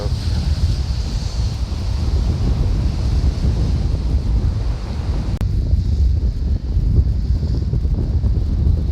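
Steady roar of sea waves and surf on a rocky coast at Uljin, Korea, mixed with strong wind buffeting the microphone, continuous and loud throughout.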